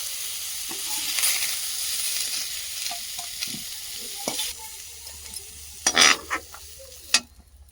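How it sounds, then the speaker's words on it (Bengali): Potatoes and eggplant fry in hot oil in a pan with a steady sizzle, broken by a few sharp clattering stirs and scrapes toward the end. "এই যে আলু এবং বেগুনটা চাপা দিয়ে কিছুক্ষণ ভাজা করে নিয়েছি।"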